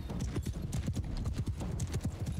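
Horses gallop in Mount & Blade II: Bannerlord, a dense, rapid clatter of hooves up close and loud throughout, with no voice over it.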